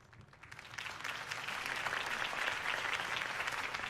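A crowd applauds in the video game Batman: The Telltale Series, the clapping swelling from moderate to a sustained, dense roar of hands that carries on steadily.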